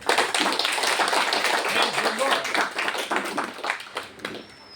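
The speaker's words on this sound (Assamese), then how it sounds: "এবাৰ তালি বজাবনে" A church congregation claps together during a sermon, a burst of many hands striking in quick, uneven patter that fades toward the end.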